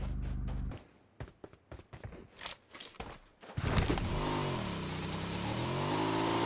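A vehicle engine in PUBG Mobile roars up after a stretch of sharp clicks and footsteps, then holds a loud, continuous drone with rising and falling pitch as it drives off, no talking.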